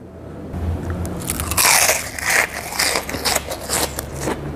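Red Nutrijell crackers bitten and chewed up close, a loud crisp crunch followed by rapid crackling chews that are dense and brittle, with no talk.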